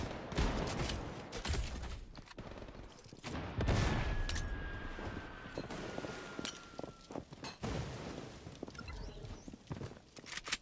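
Shotgun blasts and scattered gunfire in the online shooter Bloodstrike on the Shutter Island map, a few sharp shots mixed with footsteps and busy game noise, fairly close.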